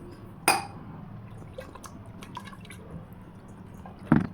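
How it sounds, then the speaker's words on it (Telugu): Wet squelching of mashed drumstick pulp being squeezed by hand with added water, a few sharp splashy squishes among softer liquid dribbles, close and alone. "వీటిలో కొన్ని నీళ్లు కలిపేసి చేతితో కూడా మెత్తగా పిసికేసుకోవాలండి"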